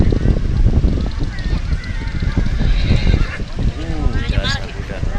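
A rental horse at Ambal Beach gives a short whinny near the end, partly masked by people talking and wind noise throughout.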